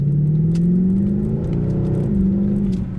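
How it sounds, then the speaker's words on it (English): 2011 Mercedes-Benz C63 AMG with a 6.2 L naturally aspirated V8 revving up inside the car, a loud deep drone rising in pitch then easing off and climbing again. "I just love the sound of that naturally aspirated V8 engine"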